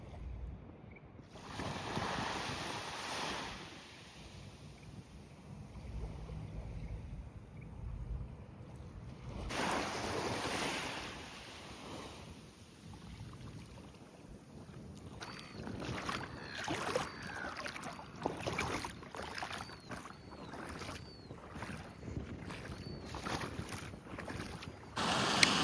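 Wind and waves at a beach, a steady broadband rush of surf and gusting wind buffeting the microphone close by, swelling and easing over the whole stretch with no talking.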